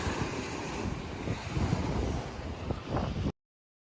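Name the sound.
large ocean waves and wind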